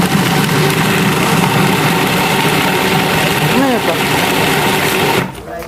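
A kitchen machine grinds bread into breadcrumbs with a loud, steady motorized whir close by that cuts off abruptly near the end, while someone talks over it.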